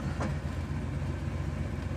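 The 454 LS5 big-block in a 1970 Corvette Stingray fires up, with a brief starter catch followed by a steady deep rumble settling into idle.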